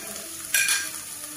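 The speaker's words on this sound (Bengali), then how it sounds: "সবগুলো সবজিরে আমি হালকা করে ভেজে নিব" Potato, tomato, cabbage, carrot and spring onion greens frying lightly in oil for a vegetable soup, a steady close sizzle that swells briefly in a short burst of stirring, with no voices.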